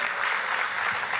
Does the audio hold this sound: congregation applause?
yes